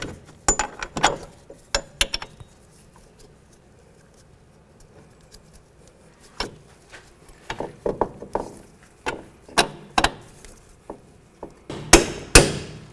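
A hammer taps strut bolts into the steering knuckle of a 2005-2010 Chevy Cobalt, with sharp metallic strikes in scattered bursts and pauses, close and fairly loud, no speech.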